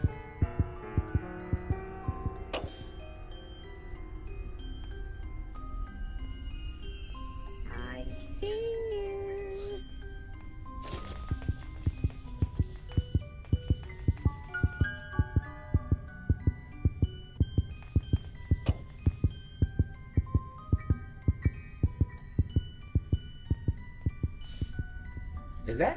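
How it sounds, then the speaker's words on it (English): A heartbeat effect in the Granny horror video game thuds in a steady, rapid rhythm over a low hum, with brief sounds from the game and a short voice early on. "Is that his heartbeat doing that?"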